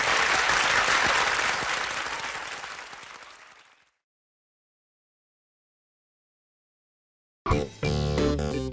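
A crowd cheers and shouts in a dense, loud roar of applause that gradually fades out to silence, followed by a burst of music.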